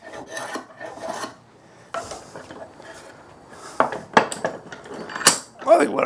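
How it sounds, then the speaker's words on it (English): A hand plane shaves the edge of a wooden chopping board in short, uneven rasping strokes, close and fairly loud, with quiet gaps between passes. "So I'm planing upwards and along."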